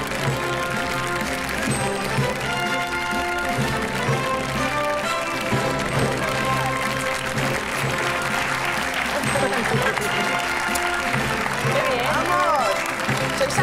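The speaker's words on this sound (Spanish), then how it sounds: "¡Fuerte el aplauso!" A studio audience on a live television music show gives sustained, loud applause for a composer, mixed with music and voices throughout.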